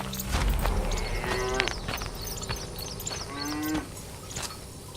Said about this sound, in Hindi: गाय जोर जोर से आवाज कर रही होती है।